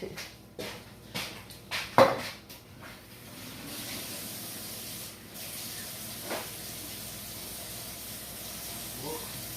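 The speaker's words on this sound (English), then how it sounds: "Let me rinse this off though" Tap water runs in a steady hiss as a juicer is rinsed, starting after a few clanks and knocks of plastic parts being handled and then carrying on evenly at moderate distance. A voice speaks briefly at the start.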